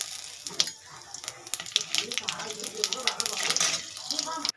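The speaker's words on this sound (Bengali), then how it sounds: "এদিকে কড়াইতে তেল দিয়ে দিয়েছি, এবার কাঁকড়াটা ভেজে নেবো ভালো করে।" Crab fries in oil in a kadai with cumin and bay leaf, a moderate crackling sizzle broken by sharp clinks and irregular spatter bursts.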